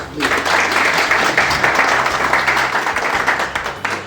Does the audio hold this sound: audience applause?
yes